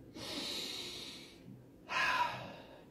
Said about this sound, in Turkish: Sonra derin bir nefes aldı.